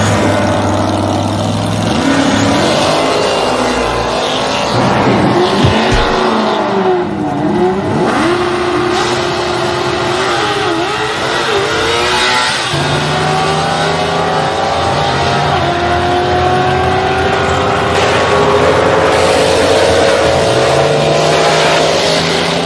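A loud nitro drag racing car engine roars and revs continuously, with rising and falling pitch sweeps and rough, powerful mid-range rumble throughout.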